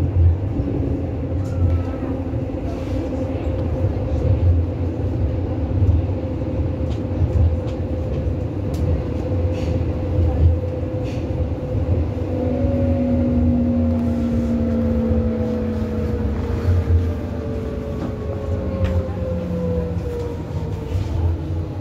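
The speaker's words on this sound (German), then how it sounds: "Dieser Zug endet hier. This train terminates here." A Berlin U-Bahn H95 train on line U5 arrives at Hauptbahnhof with a steady loud rumble, rising and falling brake whines and squeals, and faint clatter, all close and continuous.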